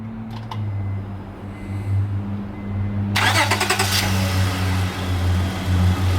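Car engine with a newly fitted AEM V2 cold air intake cranks over and catches, then settles into a steady low idle hum, close and fairly loud with no talking.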